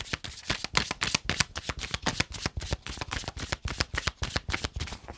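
A deck of tarot cards is shuffled by hand, a dense run of crisp riffling flicks in a fast, steady rhythm, close and clear with no voices over it.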